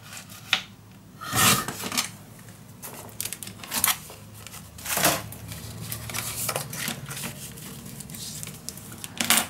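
Scissors cutting a paper piece shorter for a Graphic 45 Love Notes folio mini album, a few separate crisp snips and rasping strokes with paper rustling between them, close and fairly quiet, no talking.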